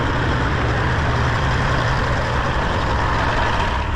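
A large truck's engine idles and rumbles steadily at close range while the truck is moved during unloading, a constant low drone with no breaks and no voices.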